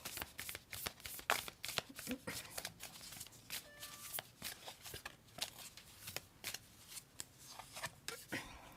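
Tarot cards are shuffled and drawn by hand, a steady run of close, crisp riffling and slapping card sounds repeating in quick bursts, with no voices.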